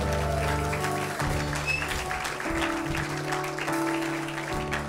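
A congregation claps at an Easter Sunday church service, a moderate wash of applause over sustained music-like tones and low hum, continuous from start to finish.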